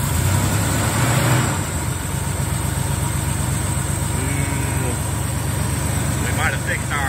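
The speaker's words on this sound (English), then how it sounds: "He's idling a lot lower now, y'all." An engine idles with a steady low hum after new gaskets and a spacer were fitted to cure a high idle, while voices are heard over it.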